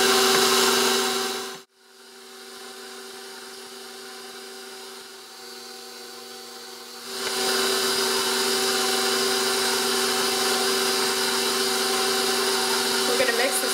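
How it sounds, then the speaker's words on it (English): An electric stand mixer working cupcake batter of flour and milk on low speed: a steady whirring motor hum that briefly cuts out, then resumes and grows louder, running on continuously. "We're going to mix this on very low speed, just until it's incorporated."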